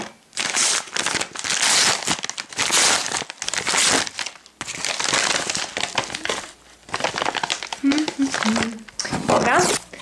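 Someone opens a package by hand, with bursts of loud crinkling and tearing of wrapping close by, broken by short pauses and with a voice talking at the end.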